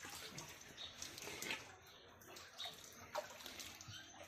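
Spring water from Saraswati Kund flowing at a Himalayan Shiva temple in Uttarakhand, a steady close splashing stream with small bright gurgles and no talk.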